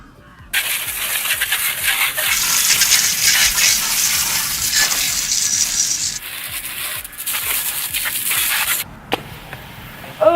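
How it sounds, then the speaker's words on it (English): Steady rushing spray of water rinsing soap off a disc-brake bicycle and its brake pads, loud and continuous for several seconds with brief pauses and shifts in the flow, no voices. "So I definitely got a little bit of soap on the old brake pads, so let's get that rinsed off ASAP, Rocky."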